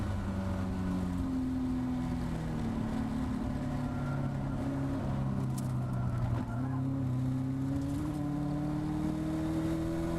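Caterham race car at Thruxton braking into the chicane, its loud onboard engine note easing down in pitch before climbing again on the exit, steady and close throughout.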